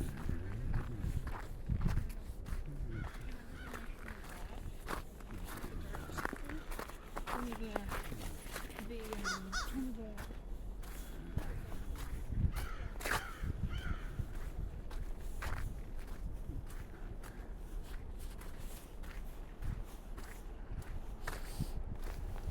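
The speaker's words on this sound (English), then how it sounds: "crow up in the tree there," A crow perched in a tree in snowy public gardens caws several times at a moderate distance, heard over crunching footsteps and occasional talk.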